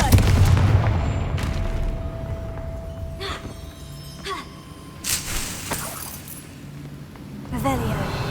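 Confringo fire spell blasts in the Hogwarts Legacy video game, a series of sharp booming bursts with crackling, shattering tails scattered through the clip over a steady low background hum and game music.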